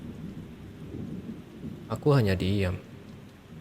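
Rain falls steadily on a beach campsite at night, with a low rumble of thunder in a stormy wash of sound, and a voice briefly narrating over it.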